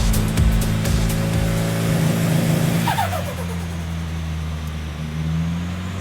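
A car engine revs hard at close range on a dyno, holding a loud droning tone before the pitch drops partway through and settles into a lower rumble; the engine has a spark problem.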